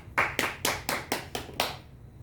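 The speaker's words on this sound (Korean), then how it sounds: "박수." A single person claps six or seven times in a quick, steady rhythm, close and crisp, during a Korean church Sunday service, then falls silent.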